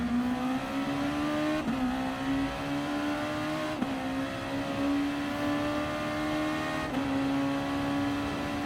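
Race car engines in Gran Turismo Sport, Gr.2 cars at Red Bull Ring, a loud continuous engine drone holding a steady pitch that drops sharply at each gear change, repeated several times, with no voices.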